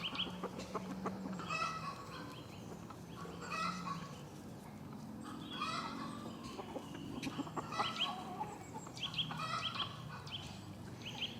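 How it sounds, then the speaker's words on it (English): Chickens cluck steadily throughout on a homestead, several birds close by with overlapping calls and an occasional higher squawk over a soft outdoor background. "I love my chickens and turkeys."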